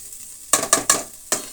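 Spoon stirring a gobi rice mixture in a pan, four quick scraping clatters close up, the first three in fast succession and the last after a short pause, over a faint sizzle.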